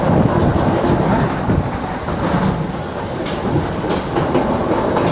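A passenger train runs along the Indian Ocean coast between Colombo and Mirissa, a steady loud rumble of wheels and carriages with faint clatter and wind noise throughout, no voices.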